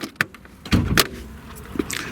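The hood of a Porsche 944 S2 Cabriolet being opened: a quick series of close metallic clicks and clunks as the latch releases, followed by a louder thump and some light rattling.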